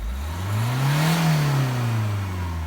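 A remapped car in race mode accelerates, its engine note rising to a peak and then falling, a single smooth loud rev heard close with no voices.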